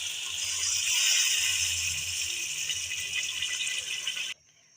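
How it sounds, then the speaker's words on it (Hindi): Water poured into a hot pan of frying potatoes for an aloo anday dish sets off a loud, steady sizzling hiss that holds for about four seconds, then cuts off abruptly. "अब हम इसमें शामिल कर देंगे पानी।"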